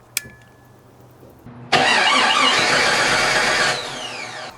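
A Jeep 4.6L stroker engine cranks briefly, then fires and runs loudly with a rough, sustained roar for about two seconds before the revs drop off, heard alone and close.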